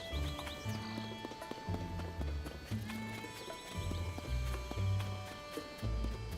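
A donkey in the Hateno pasture area of Zelda: Tears of the Kingdom, with a loud braying whinny, hoof clip-clops and footsteps close by over light game music, no talk.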